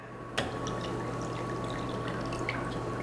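Water poured into a saucepan of sugar for baklava syrup, a steady close splashing pour that begins with a sharp onset and runs continuously over a low steady hum, with no talking.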